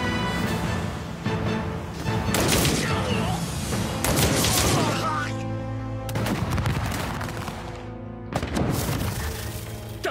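Anime battle gunfire in a war setting: dense bursts of rapid shots and booming blasts come in three loud waves with short gaps between them, and shouted voices are mixed in.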